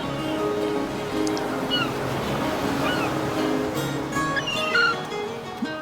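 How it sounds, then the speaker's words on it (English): Ocean waves wash in a steady, continuous surf as background ambience in the TaleSpire tabletop game, with faint bird-like calls scattered over the roar. "I will say it is nice hearing the like ocean in the background."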